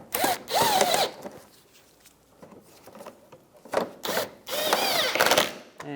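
Power drill driving screws into a 2004-2009 Toyota Prius front bumper cover, several short whirring bursts with pauses between, close and moderately loud.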